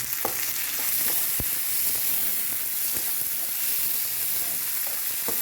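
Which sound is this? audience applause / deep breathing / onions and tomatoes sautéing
onions and tomatoes sautéing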